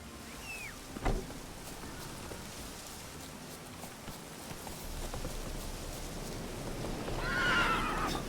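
A horse neighs in the video game Witcher 3, a shrill whinny rising near the end over steady rain ambience, with a single sharp thud early on.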